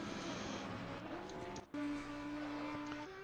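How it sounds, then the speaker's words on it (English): Audi race car engine in Assetto Corsa Competizione racing at Imola, a loud sustained high-revving drone with a brief dip at a gear change before climbing again. "I love the sound of that engine."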